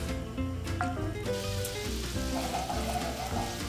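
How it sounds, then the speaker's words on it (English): A steak au poivre pan sauce sizzles and bubbles steadily over raised heat, heard up close alongside faint background music. "I'm gonna increase the heat and bring this to a simmer."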